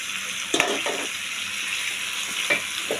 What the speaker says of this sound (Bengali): মটরশুঁটি দিয়ে অল্প নেড়ে আমি জল দিয়ে দেবো।